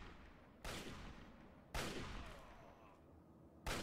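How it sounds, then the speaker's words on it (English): Characters shoot each other in the video game Fallout 3: three separate bursts of gunfire, each a sharp crack trailing into a decaying rumble, fairly distant and quiet, with no voices. "Oh, they're shooting one another."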